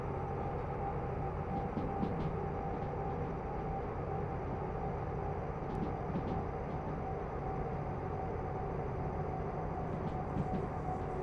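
A steady, moderately quiet rumble of a locomotive hauling a train in Derail Valley, an even mechanical drone with faint occasional clicks and squeaks as the train brake is lightly applied.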